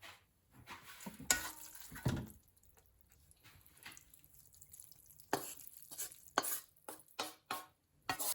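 Cooked instant noodles being stirred in a pot, with soft wet scrapes and clinks in uneven bursts separated by quiet gaps, close and fairly faint.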